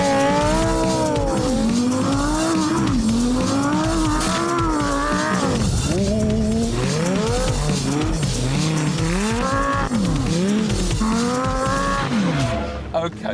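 A Lamborghini Gallardo LP560-4 sliding on ice with traction control off, its engine wailing and rising and falling in pitch while the tires squeal continuously, loud and close throughout.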